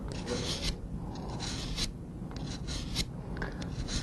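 A pruner blade drawn across a DMT diamond sharpener for a finer-grit pass makes soft, steady rasping strokes. They repeat close and fairly quiet, with no talking.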